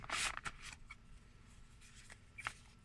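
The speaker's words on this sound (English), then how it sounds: "I'm going to have to shuffle these old school because they are kind of rough" Rough old tarot cards are shuffled by hand in quick, faint riffling bursts near the start and end, with soft papery rustles between them and no talk.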